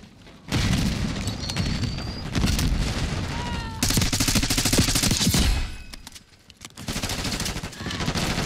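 Frag grenade and gunfire in Black Ops 6 multiplayer, dense bursts of automatic fire and heavy booms, loud and continuous with a brief lull before the shooting resumes.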